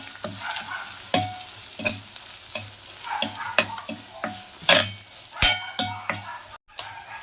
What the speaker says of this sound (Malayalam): ഇനി പൊടികളിട്ട് മിക്സ് ചെയ്യാം പൊടികൾ ചൂടായിട്ട്